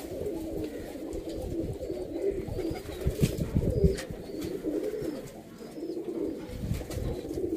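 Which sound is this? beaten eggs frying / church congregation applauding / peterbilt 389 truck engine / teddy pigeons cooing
teddy pigeons cooing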